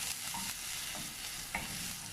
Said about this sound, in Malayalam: അപ്പോൾ ഇതൊന്ന് ജസ്റ്റ് ഇളക്കുക.